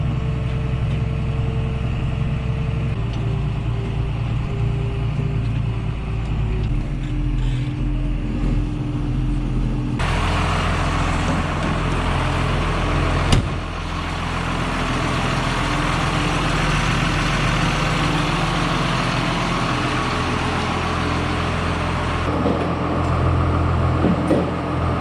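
The diesel engine of a John Deere 7130 tractor runs close and steady as it backs up to a manure spreader, its pitch shifting a few times and growing louder about halfway through, without any voices.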